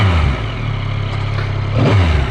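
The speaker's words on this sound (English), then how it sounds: "Just fire it up so you can have a little listen to this exhaust" A Yamaha motorcycle with a Euro-compliant exhaust idles with a steady low rumble, then blips into a brief rev near the end, close and fairly loud.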